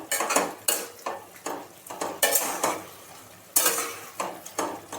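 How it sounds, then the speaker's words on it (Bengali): Bitter gourd curry with hilsa fish head being stirred in a pan: a series of distinct metal scrapes and clanks from a spoon against the pan, irregularly spaced, over a faint background sizzle. "একটু নেড়ে দিই।"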